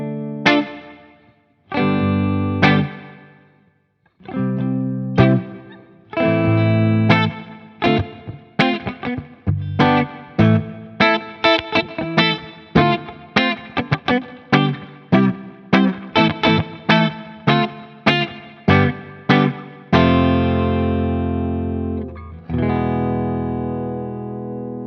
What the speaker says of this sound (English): Let's add the reverb, the first setting.